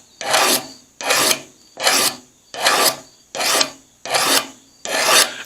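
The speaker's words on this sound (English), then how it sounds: "take that file and just go right down this until I get those tool marks rubbed off" A hand file rasps along cheap dollar-store scissors to remove tool marks, seven even, rhythmic strokes about one per second, close and clear with no talking.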